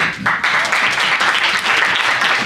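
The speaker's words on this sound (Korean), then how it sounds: "박수!" An audience at a high school chapel service bursts into applause, dense continuous clapping from many people filling the room, loud and close with no one talking over it.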